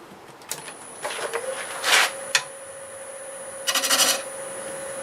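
A wood lathe turns a black walnut blank while a gouge shapes it from a repositioned tool rest, before hollowing begins: a steady motor whine runs throughout, broken by several short, raspy cutting bursts, close and moderately loud.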